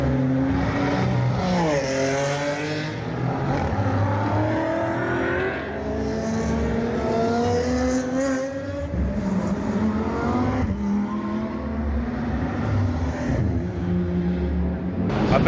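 GT4 race cars pull out of the pits at the rain-hit centenary Spa 24 Hours, engines revving loudly with repeated rising and falling pitch sweeps as several cars accelerate past in close succession.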